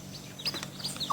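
Small, high peeping chirps from chicks with a soft cluck or two from a hen, scattered and close, over a faint low hum.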